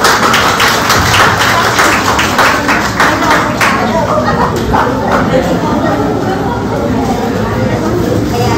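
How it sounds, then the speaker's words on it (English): Listeners at a university professorial chair lecture clap for a speaker. The loud, dense clapping is strongest in the first half and blurs with the hall's background noise. "Let's give her a round of applause."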